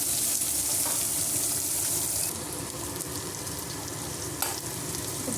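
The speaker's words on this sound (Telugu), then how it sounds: "ఆవాలు జీలకర్ర చిట్పట్టలు ఆడాక మనం ఈ ఆనియన్స్ వేసుకుందామండి" Onions sizzle in hot oil with popping mustard and cumin seeds for an egg curry, a close, steady frying hiss with faint stirring and no talk.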